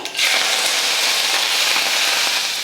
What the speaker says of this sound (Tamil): எண்ணெய் காஞ்சதுமே கொஞ்சம் வெந்தயம், கம்மியாக போட்டுக்கோங்க வெந்தயம், கொஞ்சமாக கடுகு உளுந்து, கொஞ்சம் கருவேப்பிலை